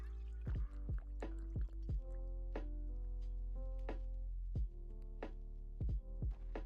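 Drinking water in the Project Zomboid video game: a quiet series of wet, plinking, gulp-like liquid sounds repeats in a loose rhythm, with no voices over it.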